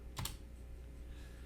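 Keys tapped on a computer keyboard to enter a value, a quick pair of close, soft clicks at the start and then a quiet steady hum.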